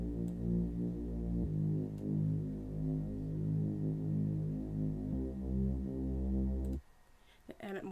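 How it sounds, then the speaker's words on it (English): A distorted Omnisphere Drama Wheel Bass in an FL Studio beat plays sustained, buzzing low notes that shift pitch a couple of times, then cuts off near the end into quieter noise. "I added a bass to it from Omnisphere, sound called Drama Wheel Bass."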